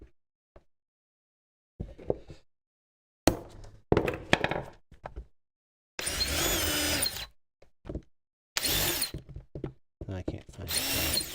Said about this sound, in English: Works good when you hit it with a hammer.